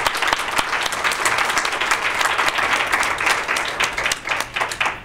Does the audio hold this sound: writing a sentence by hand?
no